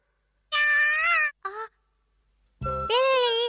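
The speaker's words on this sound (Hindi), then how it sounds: "बिल्ली, यहाँ आओ।" A cartoon cat meows in bright, drawn-out cries, two calls then a pause before a longer, rising meow, close and clear against silence.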